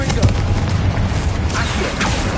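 Confringo fire spell blast in Hogwarts Legacy, a loud booming burst with rumbling low energy and crackling bursts amid spell combat.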